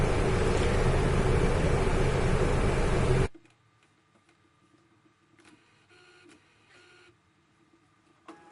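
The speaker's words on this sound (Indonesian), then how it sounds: "Sekarang mesinnya langsung saja saya nyalakan dan langsung print tanpa saya melakukan maintenance terlebih dahulu." A UV printer printing a phone case runs loud and steady for about three seconds, then cuts off abruptly, leaving only faint mechanical ticks and low hum.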